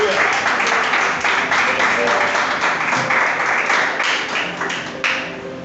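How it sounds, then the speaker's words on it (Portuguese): A church congregation applauding after the sermon reading, loud close clapping from many hands in a fast irregular patter, tapering off slightly near the end. "E aplaudam a palavra de Deus."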